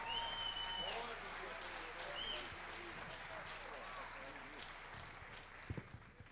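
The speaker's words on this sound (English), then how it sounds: "Give us some applause." Audience applause at a 1996 country music awards show, a steady wash of clapping and crowd noise that holds through the clip, with brief whistles and cheers near the start.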